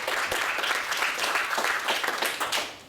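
An audience bursts into sustained applause, many hands clapping in a dense, fairly close patter that fades slightly toward the end.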